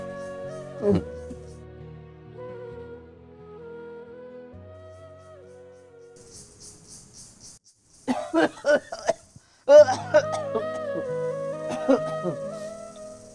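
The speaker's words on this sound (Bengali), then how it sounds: "তোমার কাশি এখনো ভালো হয় না?" Someone indoors coughs in a few sharp, close bursts clustered near the end, after quieter stretches of soft tonal background sound.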